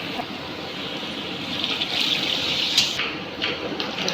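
Water poured steadily into a cooking pot of simmering curry, a continuous splashing gush lasting several seconds at moderate level with no talk over it.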